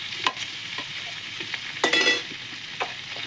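Vegetables, kohlrabi and spring onions, frying in a pan with cumin and ginger paste, crackling sizzle broken by several sharp stirring scrapes, close and fairly loud, no voices.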